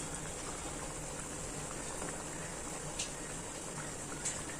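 Mupparuppu vadai fry in hot oil with a dense, even crackling bubble that holds steady and close throughout, broken by a couple of faint clicks.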